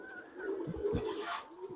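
Pigeons from a breeding pair coo softly in a short, close call, with a faint rustle and a sharp knock at the end.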